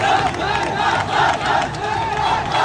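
A large crowd of protesters marching toward parliament shouts and chants in loud, rising and falling waves, dense and continuous, with many voices overlapping.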